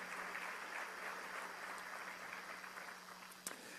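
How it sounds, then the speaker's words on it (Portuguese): A church congregation applauds steadily at moderate distance, a dense even wash of clapping that holds for nearly four seconds, with one sharper knock near the end. "Pode aplaudir a Jesus."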